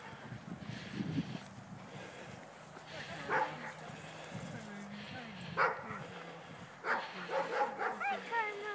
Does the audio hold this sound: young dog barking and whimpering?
yes